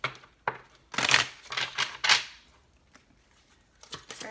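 A deck of tarot cards is shuffled by hand in a series of quick, crisp riffles and slaps. The bursts come in an uneven rhythm, close and moderately loud, with no speech.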